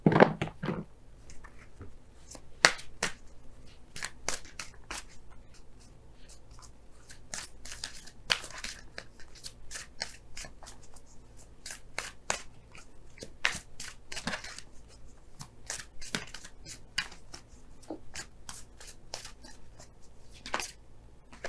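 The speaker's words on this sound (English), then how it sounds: "let's go ahead and pull your Romance Angels cards for this week" Romance Angels oracle cards shuffled and pulled by hand: soft, close riffling and sharp card snaps scattered throughout, some quick clusters of flicks over a quiet room background.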